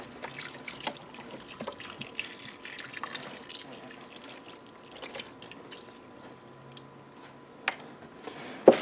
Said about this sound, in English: I think I'll take the 32 ounce container and add half of water.